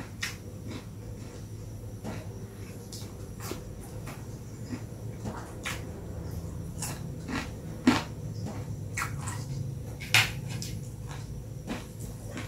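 Crunchy food is chewed close up, with repeated sharp crisp bites at an irregular rhythm over a quiet background hum.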